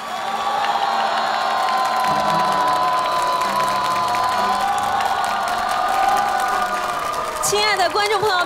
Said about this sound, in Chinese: 我们再一次把掌声送给他们